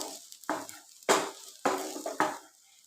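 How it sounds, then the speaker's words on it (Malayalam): Ghee sizzling in a pan over full flame while being stirred, with several distinct scraping, stirring strokes spaced about half a second apart, each followed by a brief burst of frying hiss, close and moderately loud. "എന്നിട്ട് ഇതിനെ മൊത്തത്തിലൊന്ന് ഇളക്കി കൊടുക്കാം"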